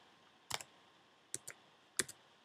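Sparse keystrokes on a computer keyboard that feels a little unfamiliar: four or five short clicks and small clusters spaced across a quiet room, fairly close and crisp, with no one talking.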